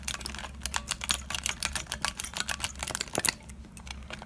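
Fingers tapping a soft paper-and-fluff squishy keyboard fitted with keycaps cut from a Sprite soda can, a fast uneven run of crisp close clicks and taps, some keys loose.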